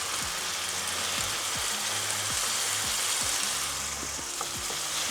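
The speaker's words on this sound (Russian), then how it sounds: "Так, оставлю пару минуточек, пускай так жарится" Chicken and onion with pepper frying in a pan, a steady close sizzle and crackle with scattered soft knocks and scrapes, heard alone without talk.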